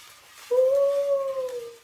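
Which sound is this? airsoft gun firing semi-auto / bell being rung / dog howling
dog howling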